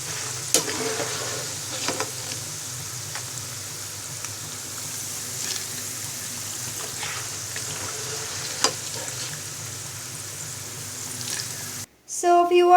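Banana chips frying in hot oil give a steady, close sizzle with scattered crackles and pops, running unbroken for most of the stretch before cutting off abruptly near the end.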